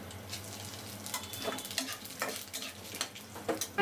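Dry chilli, bay leaf and cumin crackle and sizzle in hot oil, with a spoon or spatula scraping and stirring in irregular bursts; close and fairly quiet, no voices.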